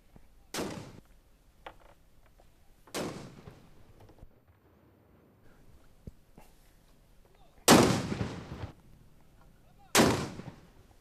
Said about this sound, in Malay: Tembakan meriam sebagai satu tradisi di negara Brunei Darussalam bagi menyambut ketibaan bulan Syawal.